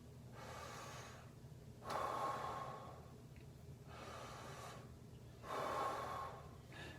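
A trombonist takes deep, slow breaths as a demonstration, two long inhale and exhale cycles with a rushing, airy texture, close and steady with brief pauses between, no talking.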